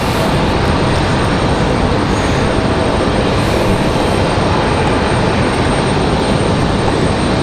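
A United airliner taxiing at Raleigh-Durham airport gives a loud, steady engine roar with broadband rumble that holds constant throughout, no voices present.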